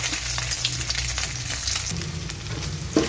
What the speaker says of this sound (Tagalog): Minantika ko para igisa ang bawang at luya.